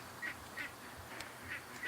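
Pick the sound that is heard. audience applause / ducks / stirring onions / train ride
ducks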